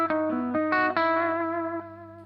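An electric guitar plays a short clean-toned phrase through a pedalboard, with a slight delay trailing each plucked note as the sustained tones ring and fade, close and alone.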